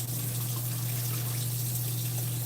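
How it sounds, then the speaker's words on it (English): Tap water runs steadily into a cooking pot on a home stove while spaghetti is being made, a continuous broadband gush with a low steady hum underneath, fairly close and without talk. "let's go ahead and put some more water in my pot"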